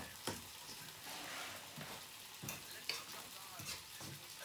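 A saucepan sizzles on a home stovetop while vegetable tart filling cooks, a steady close frying hiss broken by occasional louder pops and stirring scrapes, with no talking over it.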